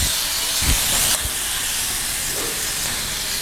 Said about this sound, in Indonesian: pertama kita taruh minyak di pan ya. Kita panggang ayamnya terlebih dahulu.